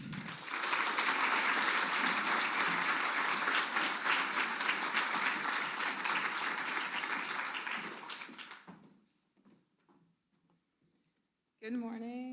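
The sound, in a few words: audience applause welcoming a speaker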